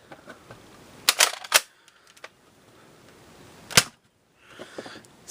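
A knockoff Nerf Cycloneshock blaster fires Elite foam darts, giving sharp, snappy shots: a quick cluster of three around the middle, then one isolated crack, with faint mechanical clicks and handling noise between them.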